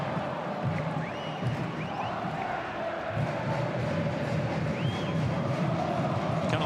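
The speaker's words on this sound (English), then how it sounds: "Crowd appeals for a handball." Stadium crowd at a Los Angeles FC versus Club León football match rising in a sustained roar as fans appeal for a handball, a broad steady wash of voices with scattered whistles.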